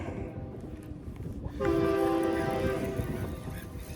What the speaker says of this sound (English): Got a train coming through. If I hear the horn.